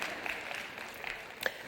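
Audience applause at a spoken lecture: a short, faint wash of clapping from a crowd, steady and diffuse, with one slightly sharper clap standing out near the end.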